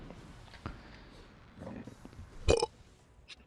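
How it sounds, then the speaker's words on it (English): A single loud, gurgling burp from a man erupts near the end amid quieter background sounds and small noises, close to the microphone. "Need a good burp, man."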